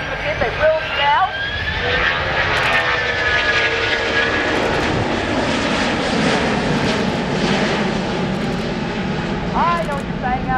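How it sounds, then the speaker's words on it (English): RNZAF Boeing 757 jet engines roar during an air display, a loud sustained whine and rumble rising and shifting in pitch, with an announcer talking over it. "Boys and girls, you might want to put your hands over your ears for the clutch, because when these engines kick in, they will now."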